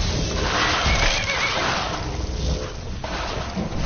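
A horse in Skyrim neighs loudly with a long whinny near the start, over a rough, hissy game background, with no speech.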